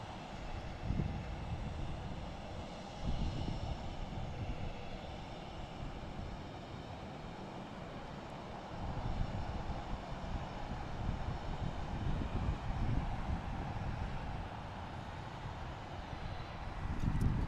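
An airplane on runway 28 left at Portland International Airport gives a steady, broad jet roar. The roar holds level for the whole stretch with small swells, no voices, and sits at moderate distance.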